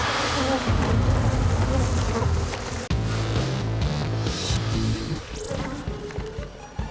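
Dense, agitated buzzing of many bees fills the air continuously, loud and close, with a lower droning hum beneath it throughout.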